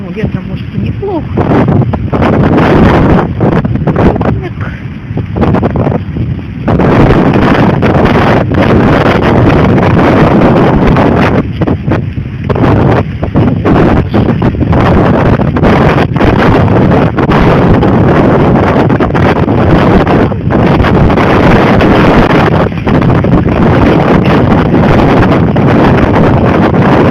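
Strong stormy wind roars continuously at a seaside on the coast of Georgia, buffeting the microphone with loud, rumbling gusts throughout.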